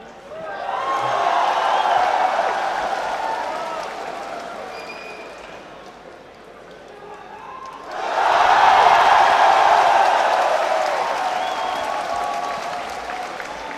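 Audience applause at the final of the 2023 Hanoi Open Pool Championship, Jayson Shaw vs Albin Ouschan: sustained clapping swells, fades briefly around the middle, then surges back louder and holds, with faint voices mixed in.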